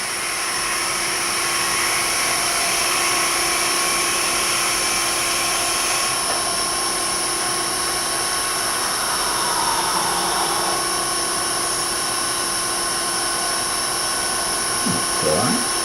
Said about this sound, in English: I'm going to drill about a ½ inch hole maybe.